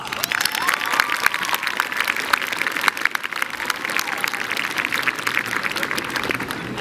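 Sustained applause from a large crowd at a high school graduation ceremony, honoring cafeteria and maintenance staff, with dense, steady clapping and a few scattered cheers filling the hall.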